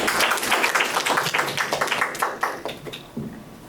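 Studio audience clapping on cue during a Korean quiz talk show segment, a dense burst of many hands that stays steady, then thins out and fades over a few seconds.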